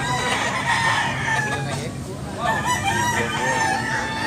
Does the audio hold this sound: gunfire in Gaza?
no